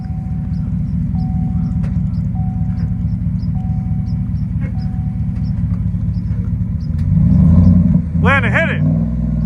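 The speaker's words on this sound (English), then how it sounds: "He's gonna put the key in and rev it up." Lifted 2015 Chevrolet Silverado 1500 pickup idles with a steady, loud low rumble, then revs up sharply near the end before dropping back, with voices talking faintly over it.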